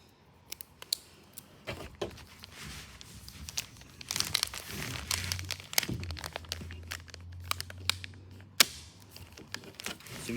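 Plastic wrap crinkling while being wound around a pipe packer for drain pipe lining, quiet close irregular crackles and rustles with occasional sharp snaps and a brief low hum midway.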